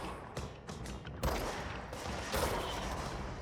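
Gunfire in the action game Control, a string of sharp shots and bursts at moderate, fairly quiet level, with one stronger crack partway through and a rumbling backdrop.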